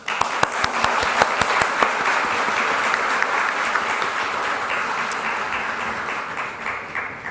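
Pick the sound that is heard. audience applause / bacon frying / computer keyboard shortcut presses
audience applause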